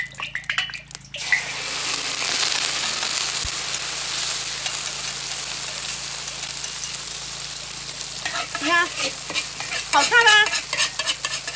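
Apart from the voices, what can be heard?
mixed ingredients being stir-fried in a wok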